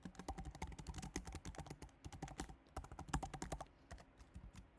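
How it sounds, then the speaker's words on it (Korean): Rapid, continuous typing on a computer keyboard during a programming lesson, with close, crisp key clicks in an uneven rhythm and brief pauses, heard alone without speech. "자, 예제에 나와 있는 내용을 그대로 따라서 타이핑을 한번 해봅시다."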